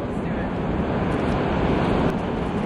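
Steady broadband surf roar of ocean waves on a sunny beach where beachcombers hunt for sea glass, continuous and fairly loud with wind noise mixed in, no talk.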